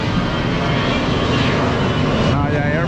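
A fixed-wing airplane passes overhead close to an airport in a busy Baclaran street area, its broad engine roar loud and steady for the whole stretch, with people talking beneath it.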